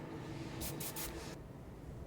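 Hairspray hissing onto small hair pieces of a bridal wig in three quick soft bursts merging into a short spray, faint over a quiet room background.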